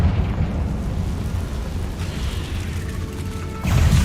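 The Confringo blasting spell goes off in the Hogwarts Legacy video game, a loud, rumbling explosion that roars steadily and then bursts again sharply near the end.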